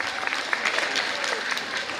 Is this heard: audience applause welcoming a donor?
yes